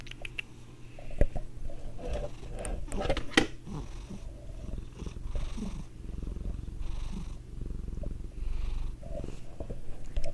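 A cat purrs steadily up close, a low continuous rumble, with a few brief clicks and a faint voice in the background.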